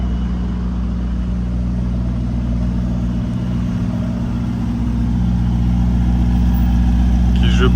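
A Ferrari SF90 Stradale fitted with a non-original aftermarket exhaust rolls in on a Monaco evening, giving a steady, loud low engine rumble with a slight swell toward the end over constant street ambience.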